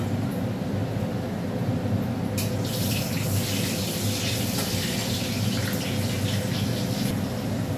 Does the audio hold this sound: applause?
no